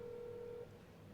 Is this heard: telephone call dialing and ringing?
yes